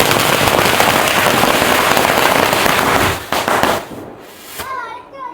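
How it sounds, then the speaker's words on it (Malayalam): Firecrackers bursting at a Vishu celebration in Kerala, a loud dense crackling barrage of rapid pops that stops abruptly, followed by quieter scattered sounds and a voice. "നമ്മൾ പടക്കം പൊട്ടിക്കാൻ വേണ്ടി പോകാണ്"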